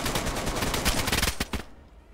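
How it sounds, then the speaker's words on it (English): A DayZ firefight on Xbox: a rapid string of close, sharp gunshots, with bursts crowding together for nearly two seconds before cutting off. No one speaks. "Oh, I'm getting shot at."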